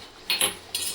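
A metal spoon scrapes and clinks against a pan while shrimp curry is stirred, three short bright scraping strokes close up with no talking.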